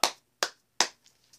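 Three sharp, close hand claps spaced evenly about a beat apart, followed by a couple of faint softer taps in a quiet room.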